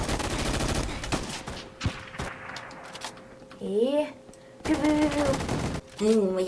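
An AK-12 rifle fires in a Roblox military shooter, with rapid bursts of loud gunfire over the first few seconds. Excited voices talk over and between the shots.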